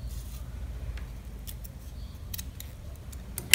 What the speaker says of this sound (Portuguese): A gente vai vir e vai cortar reto aqui esse saquinho